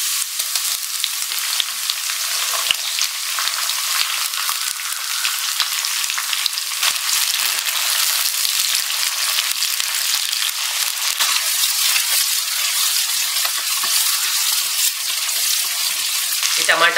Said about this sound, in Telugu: చూడండి, ఆనియన్స్ ఈ విధంగా వేగిపోతే సరిపోతుందండి.